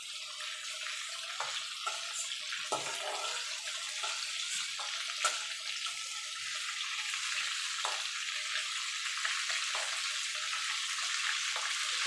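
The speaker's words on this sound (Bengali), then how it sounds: "চিংড়ি মাছটা ভাজা হয়ে গেছে" Shrimp frying in hot oil gives a steady, bright hiss with scattered small crackles and pops, fairly near and even in loudness, with no one speaking.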